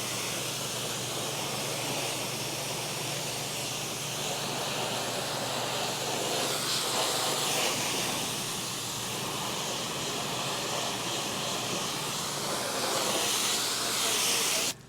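An NMD80 power washer rinses a large commercial building, giving a loud, steady, unbroken hiss of high-pressure spray that runs on alone with only small swells in intensity.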